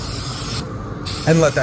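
Steady broadband hiss of a spray gun laying down a coat of paint, continuous and close, with a brief low tonal sound near the end.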